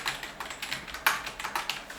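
Rapid typing on a computer keyboard from a set of budget gaming gear, a quick irregular patter of close, crisp key clicks with a few louder strikes, continuing alone without any voices.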